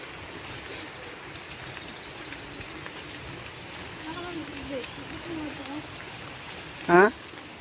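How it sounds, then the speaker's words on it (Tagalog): Steady, moderate rain falling on a rainy day, a soft continuous hiss with light pattering, while a person talks quietly now and then and a brief sharp squeal near the end. "pag ganitong klaseng ulan magtatagal to malamang maghapon"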